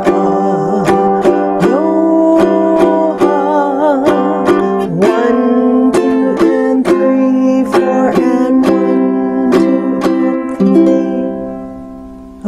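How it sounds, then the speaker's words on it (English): Plucked ukulele plays a short strummed ending passage in C for the song Hawaii Aloha, with repeated sharp strum attacks, closing on a final cadence that fades out; no voices. "our ending is what I call the amen ending"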